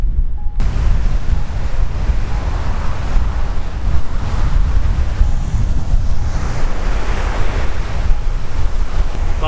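Ocean surf crashes and washes continuously nearby, a broad roaring hiss mixed with gusty wind buffeting the microphone, with no voices.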